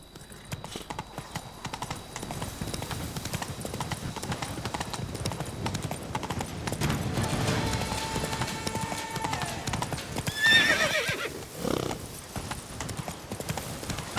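Horse hooves clip-clop steadily in a rapid galloping rhythm on the in-game horse Roach in The Witcher 3, joined by a brief whinny near the end while someone speaks lightly over it.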